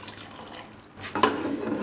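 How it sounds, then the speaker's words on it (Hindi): A small splash of water poured into a pressure cooker holding leftover curry, a short liquid gush rising near the end after a quieter lead-in, close and moderately loud. "इसमें थोड़ा सा पानी ऐड करेंगे, बिल्कुल थोड़ा सा, बहुत ज़्यादा नहीं।"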